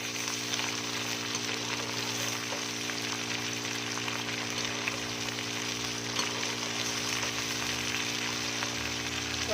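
Okra fries in a pan, a constant close sizzle and crackle with an even, unbroken texture and a low steady hum underneath.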